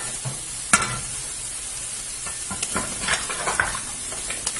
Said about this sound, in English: A little bit of tomato paste, about a tablespoon and a half, and I'm gonna mix it up.